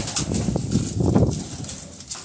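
Soft, low cooing from a large old-breed pigeon, a few throaty murmurs close by with light rustling and no talk.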